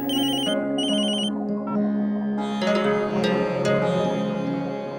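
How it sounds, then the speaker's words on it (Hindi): A mobile phone ringtone plays close and clear, a bright repeating electronic melody with short bursts of beeps that settle into a looping tune, with no talk. "नंदिनी दीदी का फोन"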